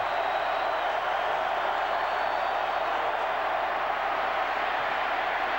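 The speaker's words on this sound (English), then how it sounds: "Listen to the crowd." A college football stadium crowd at the Iron Bowl, with Alabama facing third down, keeps up a loud, steady roar and rumble, an unbroken wall of noise with no clear individual voices.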